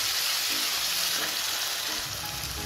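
Rajma masala spices frying in oil while being stirred, a constant close sizzle and hiss with soft stirring scrapes every second or so, no talking.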